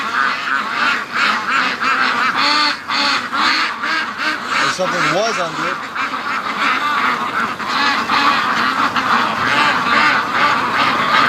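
Free-range ducks quack and honk in a noisy flock nearby, their calls running throughout while a person talks over them.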